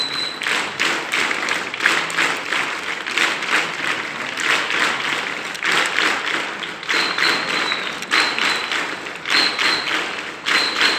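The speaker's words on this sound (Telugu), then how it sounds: "ఎవరి కోసం ఈ చప్పట్లు?" An audience at a public speech bursts into sustained, rippling applause that swells and dips in waves for several seconds, with scattered sharp claps and a faint whistle-like tone.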